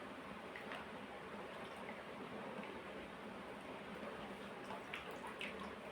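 Alum being swirled through water in a bowl of soaked wheat starch, made for sun-dried summer kurdai, gives a steady, close liquid swishing with a few soft drips and splashes and no talking.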